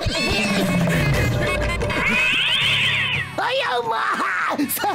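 Cartoon cats fight noisily in an animated Motu Patlu episode, with loud, continuous yowling and meowing, rising and falling cries and scuffling crashes, mixed with busy voices throughout.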